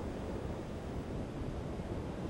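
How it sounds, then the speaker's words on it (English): Ocean waves break on a beach and wash up the sand in a steady, dense roar of surf. The sound is continuous and fairly faint, with wind noise mixed in and no voices. "Waves are so much fun for playing. You can see how they push the water up the beach when they break."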